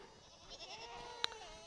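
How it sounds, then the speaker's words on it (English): Goats bleat faintly on a farm at feeding time, with a soft wavering cry running through the background and one brief sharper call near the end. "So I'm just gonna have to deal with the stampede of goats."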